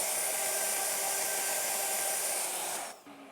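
A Shaper handheld CNC router whirs steadily and loudly through its final 18 mm cutting pass, a dense, even roar with dust extraction, then cuts off abruptly near the end, leaving a faint low hum.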